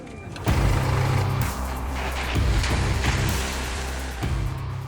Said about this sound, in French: Ce véhicule élégant et dynamique est le nouveau Renault Koleos, le dernier né de la gamme Renault